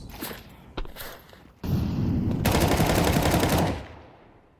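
In Counter-Strike 2, a player sprays automatic rifle fire, preceded by a couple of isolated shots and footsteps, then a loud sustained burst of rapid gunfire lasting about two seconds before fading out.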